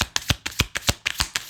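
Rhythmic tarot card shuffling and drawing: a series of crisp, papery riffles and snaps repeating roughly every third of a second, close and clear, with no talking.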